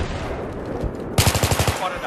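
Machine gun fire in Battlefield 3: after a second of low battlefield rumble, a rapid, loud burst of about eight evenly spaced automatic shots rings out close by, then trails off.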